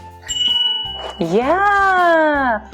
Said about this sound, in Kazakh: Велосипед қоңырауы балалар үшін маңызды қауіпсіздік құралы болып табылады.